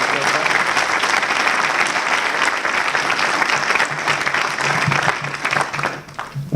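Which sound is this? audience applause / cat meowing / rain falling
audience applause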